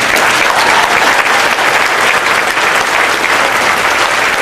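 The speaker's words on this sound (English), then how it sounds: "applause for Jerry Lacy" Loud, dense applause from a convention audience at the 2009 Dark Shadows Festival, steady and unbroken throughout, with no voices rising above the clapping.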